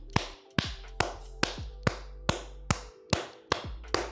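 Sharp, evenly spaced hand claps ring out about twice a second, ten in a row, close and crisp with a short room echo after each.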